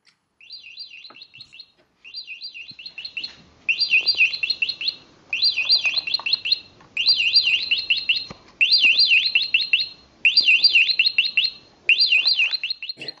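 A nature-sound alarm clock plays bird chirping in repeated bursts of quick, high tweets, each burst longer and louder than the one before, separated by short pauses.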